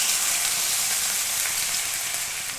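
Ginger and green chilli paste hits hot oil with fried broad beans, potato and brinjal, giving a steady, close, bright sizzle that runs evenly without pause.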